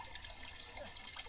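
River water in a Kenyan village running steadily, a continuous faint wash and babble with no talk over it.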